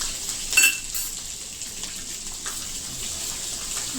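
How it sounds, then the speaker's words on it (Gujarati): Ginger garlic paste sautéing in hot oil with cumin for paneer tikka masala, a steady close frying hiss with a brief louder burst of sizzle near the start as the paste settles. "તેલમાં સાતળવા દેશું."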